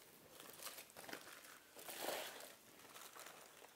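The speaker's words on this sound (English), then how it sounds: "So I'm just going to carefully unravel this, because usually you get a lot of juice collecting in the foil" Aluminium foil wrapped around a roast smoked pork loin is slowly peeled open, giving faint intermittent crinkles and rustles in short bursts, close by and quiet, with no talking.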